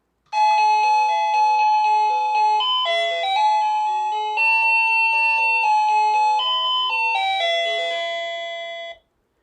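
An electric doorbell plays its sixth bright electronic chime melody of 32 ringtones, clear and close, running for several seconds before stopping abruptly.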